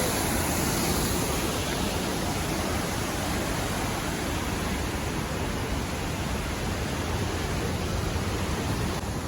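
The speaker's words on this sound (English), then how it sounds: "We're passing by some more waterfalls on the way." A steady, dense roar of rushing water fills the whole clip without a break, like a waterfall heard nearby, on a hiking trail in Rocky Mountain National Park, with no voices over it.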